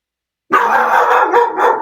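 A dog barks suddenly after silence, a loud, close, sustained bark-and-yelp burst lasting over a second, heard alone during an indoor interview.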